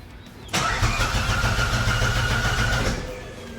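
A broken-down Ferrari's starter cranks loudly and steadily for about two and a half seconds without the engine catching, then winds down, with no voices over it.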